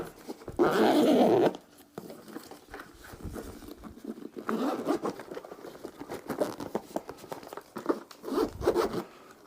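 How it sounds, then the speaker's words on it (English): A stiff zipper is pulled open on a DJI carry bag, one loud rasping pull near the start and then a run of shorter, quieter scratchy zipping and rubbing strokes, close up. "Zips are a little bit stiff."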